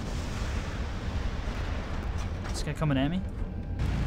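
Swarm missiles launching and exploding in War Robots, a steady rumbling barrage of blasts and pops with a brief voice speaking over it near the end.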